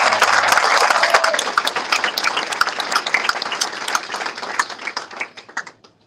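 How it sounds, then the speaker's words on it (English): A graduation audience claps for Lisa, a crisp burst of many hands that starts loud and full, thins gradually into scattered individual claps and fades out at the end. "kindly put your hands together again one more time for Lisa"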